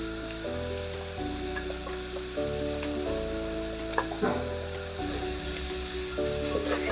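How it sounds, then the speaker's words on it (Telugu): Okra and slit green chillies sizzle and crackle steadily in hot oil in a pan while being stirred, for an Andhra mango and fish curry. The frying is close and continuous. "మిర్చి అండ్ బెండకాయలు యాడ్ చేస్తాను."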